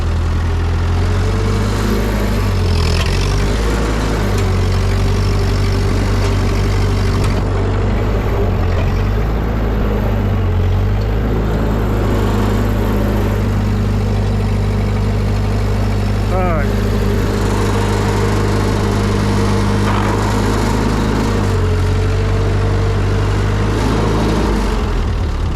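An old Ford 2N or 9N tractor engine runs steadily throughout while planting daffodils, a loud low continuous drone with slight shifts in pitch as it drives.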